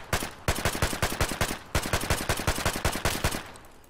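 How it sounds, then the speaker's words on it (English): Automatic gunfire in the survival shooter Escape from Tarkov, a loud sustained burst of rapid shots in a steady rhythm, pausing briefly once before continuing and then trailing off. "Shooting all the bullets at nothing in the air."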